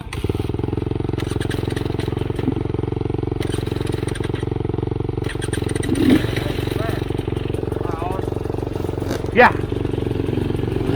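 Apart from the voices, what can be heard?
2021 GasGas EC 300 dirt bike engine running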